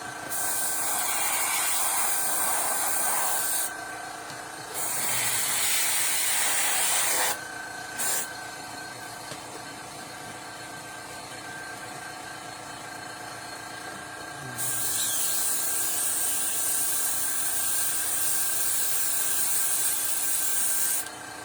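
An airbrush sprays paint onto a Kessler werewolf model in three long hissing bursts separated by quieter gaps, close and steady.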